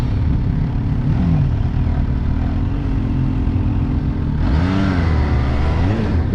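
A 2018 Kawasaki Ninja H2 SX SE supercharged motorcycle ridden in first gear, its engine droning loud and close with wind rush, then rising into a sharper rev partway through.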